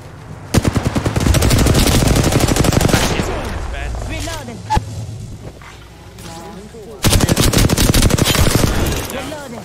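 Rapid automatic weapon bursts in an Apex Legends match: loud, fast rattling volleys, a pause with a single shot and game voice lines, then another long burst of fire.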